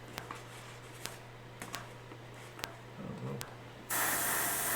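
A few faint clicks and taps, then a loud aerosol spray can bursts into a steady, close hiss near the end while weathering an E-Flite F4 model plane.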